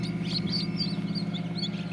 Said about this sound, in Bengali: এই যে অরিজিনাল টাইগার মুরগির বাচ্চা গলা শিলা আছে গলা শিলা ছাড়া আছে এই যে বাচ্চা